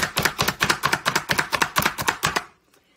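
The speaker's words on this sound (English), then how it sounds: "you're just going to keep going all the way until you have all your peppers diced up" A manual food chopper dicing peppers, skin side up, in rapid, evenly spaced crunching strikes, about a dozen loud close chops in steady rhythm that stop abruptly, leaving quiet.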